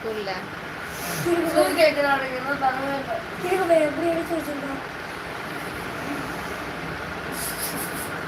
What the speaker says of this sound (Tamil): ட்ரெயின் ஏறிட்டேன்க்கா